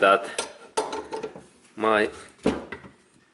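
Metal tongs clank and scrape against the rear trunk door hinge of a BMW touring model, in a few sharp, separated knocks with short pauses, close by, with a voice also present.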